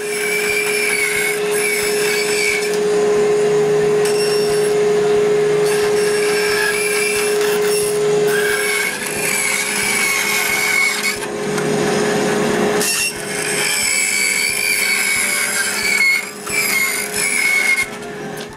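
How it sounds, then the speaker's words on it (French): A band saw hums steadily while cutting wood pieces for a Christmas tree project, with the blade pitch changing as the wood is fed through, close and continuous. "Puis vient le temps de tout couper sa scie à ruban"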